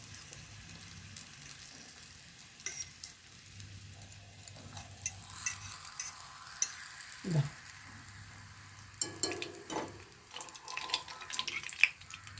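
Kottappam frying in a pan while a spoon loosens it, with a soft, uneven sizzle, occasional scraping and clinks, and a louder bubbling stretch near the end, with no talk.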